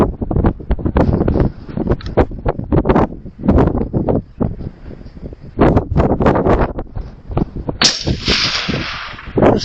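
Gusty wind batters the microphone outdoors at a shooting range, loud rumbling bursts that rise and fall in uneven waves, ending in a brighter rushing gust.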